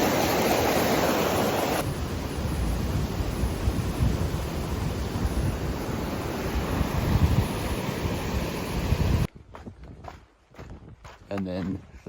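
Rushing water of a river along the Pacific Crest Trail in northern Oregon, a steady broadband roar with wind buffeting the microphone, filling most of the clip before cutting to quieter ambience with a voice near the end.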